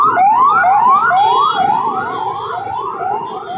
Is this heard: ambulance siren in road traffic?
yes